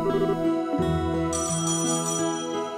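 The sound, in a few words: phone call ringing tone in a video game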